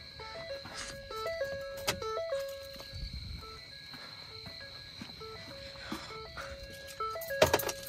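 Door-ajar chimes from 2010 and 2014 Ford F-150 pickups, stepped repeating electronic tones in a steady, overlapping rhythm, moderately near with light handling noises and no talk.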